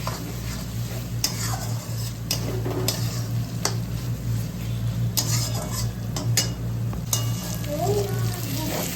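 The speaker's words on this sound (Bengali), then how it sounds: "দিয়ে আবার একটু নেড়ে নেবো" Chopped tomatoes are stirred into a crab curry in a pan in a Bengali kitchen: a spatula scrapes and clinks against the metal over and over, close and fairly loud, over a steady low hum and a soft sizzle.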